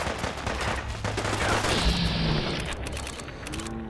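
Gunshots in the video game Fallout 4, a dense run of sharp loud reports with mechanical clatter, dying down toward the end.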